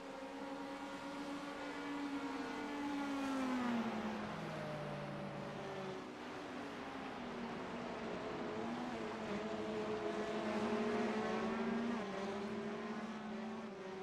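Corvette and Porsche race cars lap Sonoma Raceway, their engines whining and droning continuously as pitches rise and fall through gear changes, several cars overlapping at moderate distance with no talking.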